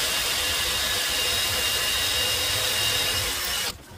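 A power drill whines steadily at high speed, loud and continuous, grinding into metal while drilling out a broken exhaust manifold bolt on a Volvo B7 double-decker bus engine, before cutting off abruptly near the end.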